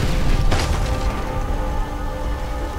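A grenade goes off in Call of Duty: World at War, one loud burst about half a second in that fades into a continuous rumble of in-game noise and low hum.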